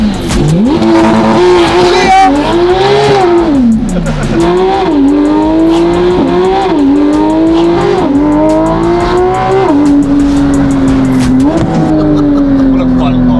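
A straight-piped V8 supercar engine revs repeatedly, loud and close, with rising and falling pitch sweeps as it accelerates and shifts, a constant roar over the whole stretch.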